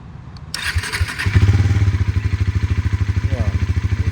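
A Bajaj Pulsar NS400Z motorcycle cranks and fires up, then settles into a loud, close, rhythmic thumping idle; a voice is heard briefly at the start.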